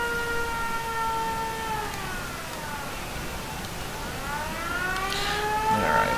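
A settlement siren in Fallout 4 wails in long rising and falling sweeps, each cycle gliding down and back up, loud and alone, with faint game noises at the end.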